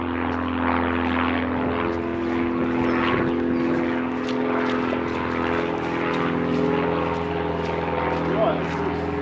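A propeller airplane drones overhead with a steady engine hum at moderate distance, over an outdoor farm setting, with voices talking intermittently beneath it.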